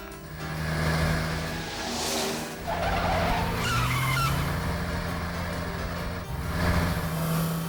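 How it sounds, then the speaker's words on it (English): A cartoon car brakes hard, its tires squealing in long skids with engine noise, loud and close, with several screeching bursts over about eight seconds. "Right, Jack, hit the brake. Stamp on it hard. We're gonna crash"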